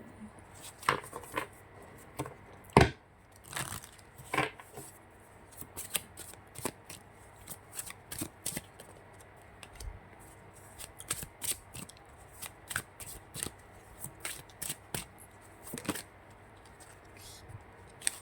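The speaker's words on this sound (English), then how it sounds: "These are really slippery to shuffle." Tarot-style reading cards, slippery to handle, are shuffled close up in repeated crisp riffles and snaps, with irregular bursts of clicking and brief pauses between shuffles.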